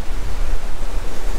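Sea surf on a Danish North Sea beach near Thyborøn, a loud, steady broadband wash of breaking waves with heavy wind rumble on the microphone, close and continuous with no voices.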